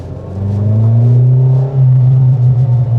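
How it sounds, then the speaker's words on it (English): A car engine idling and revving nearby, a loud, throaty low rumble that briefly dips before returning steady. "Makes a nice little noise, this car, doesn't it?"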